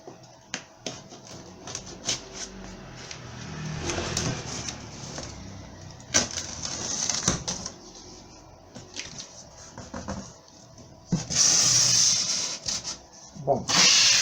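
A cardboard box holding a Brother DCP-B7535DW multifunction laser printer is opened indoors, with scattered close snaps, scrapes and rustles, then a louder burst of tearing and crinkling near the end.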